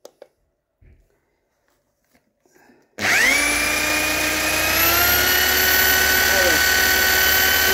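An alternator intended for a water turbine spinning at over 1000 rpm, starting abruptly after near silence into a loud, steady high-pitched whine with rising tones that settle into an even hum.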